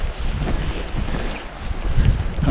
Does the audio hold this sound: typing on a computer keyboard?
no